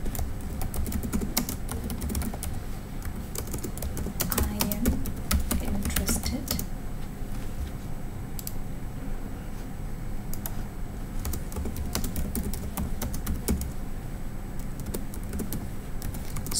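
Computer keyboard typing a message, rapid clustered key clicks in bursts with pauses, close and fairly loud, steady room hum beneath.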